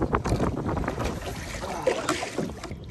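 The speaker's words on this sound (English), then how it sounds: "but this damn wind is crazy" Strong wind buffets the microphone on a lake during bass fishing from a boat, a loud steady rushing roar with gusts and faint water sounds.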